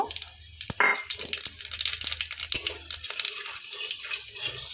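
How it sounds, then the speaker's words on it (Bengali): Nigella seeds (kalo jeera) tempering in hot oil left from frying pointed gourd, giving quiet scattered crackles and pops with faint hissing in a close, otherwise quiet kitchen. "দেখুন এই তেলেই আমি কালো জিরেটা ফোড়ন দিয়ে দেব।"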